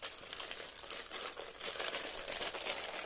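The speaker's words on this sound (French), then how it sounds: "Je vais déballer avec vous." Crinkling and tearing of a tightly glued, wrapped package containing a small pouch as it is unwrapped: steady close crackling plastic and paper rustle, continuous and fairly quiet, with no talk.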